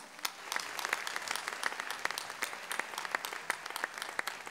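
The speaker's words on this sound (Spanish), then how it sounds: "un fuerte aplauso para todos nosotros, señores." Audience applause at a salsa orchestra concert at a festival, a steady wash of many hands clapping with sharp individual claps standing out, moderately loud and continuous without talk.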